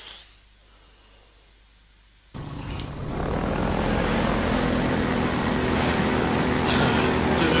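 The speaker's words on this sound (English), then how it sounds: "we're well on our way on the old hovercraft" A hovercraft engine in the video game Half-Life 2: quiet at first, then the motor kicks in abruptly and swells into a loud, steady droning roar that holds to the end.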